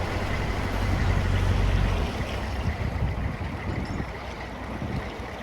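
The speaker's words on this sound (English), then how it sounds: "we're running right alongside the busy A38 and it is noisy" Continuous rumbling traffic noise from the busy A38 road runs alongside a canal mooring. It is a dense, steady low roar that is loud at first and eases slightly, with no distinct passes.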